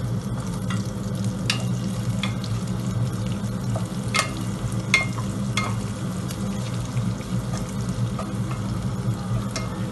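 Spices sautéing in a pan for fiery Szechuan sliced beef, a steady close sizzle and frying hiss with occasional scraping stirs of a utensil against the pan, no talk.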